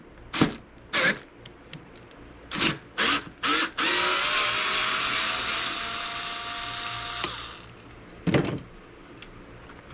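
A hand ratchet with a 10 mm socket clicks in short bursts while loosening fasteners on a BMW windshield washer reservoir, followed by a longer whirring, scraping stretch and a final click, close up with no talk.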